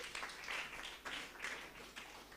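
A church congregation claps together at a youth seminar, a dense, steady patter of many hands with slight swells, heard alone without talk.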